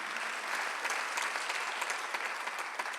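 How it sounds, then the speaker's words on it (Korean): A church congregation at a Sunday worship service claps together, a fairly quiet but continuous round of applause with individual claps standing out, heard from some distance in a large hall. "박수 하나 주세요."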